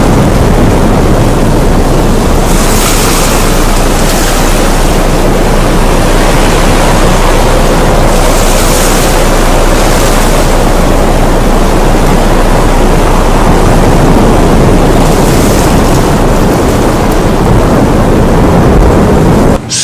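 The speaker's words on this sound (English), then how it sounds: "It's grown into a life-threatening hurricane." Hurricane Harvey on the Texas Gulf Coast, a loud, steady roar of wind and heavy rain that runs unbroken throughout, with deeper rumbling surges swelling in and out.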